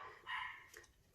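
A couple of dogs give short, faint yips and a bark from a distance in a quiet room.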